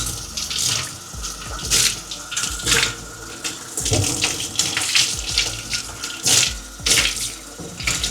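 Cold tap water runs over a Scrub Daddy sponge at a sink, a loud splashing flow broken by repeated bursts and gushes as the sponge is worked under the stream.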